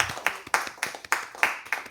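A few people clap in sparse, uneven bursts at the close of a SPARC course day, close by and thin rather than a full crowd ovation.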